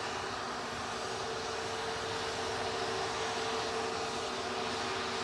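An EasyJet Airbus A320neo at Manchester Airport gives a steady, broadband distant roar with a faint whining tone, continuous and even throughout, with no voices.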